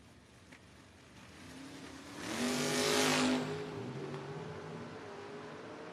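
A Mercury Capri drag car makes a run at a drag strip, its engine note swelling to a loud roar as it passes by, then fading into a lingering rumble.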